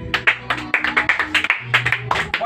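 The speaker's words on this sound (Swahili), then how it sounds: "Makofi kwa Yesu." Clapping at a Sunday school gathering, a group claps for Jesus in quick rhythmic bursts at close range, a few voices or tones mixed in among the claps.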